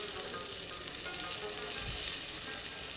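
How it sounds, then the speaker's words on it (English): Finely chopped onions and garlic sizzle in a pan as they are stirred, a dense continuous hiss that stays loud and even throughout. "add in a teaspoon or a tablespoon of finely chopped onions and make sure you stir it together"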